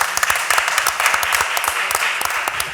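Brief round of applause from members of a criminal justice reform committee, a dense patter of many hands clapping close by for a few seconds.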